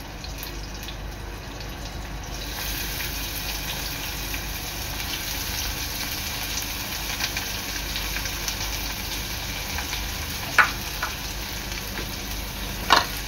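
Chopped onion sizzles steadily in a hot pan while cooking for an okra bhaji, a constant close hiss with a couple of sharp clicks near the end.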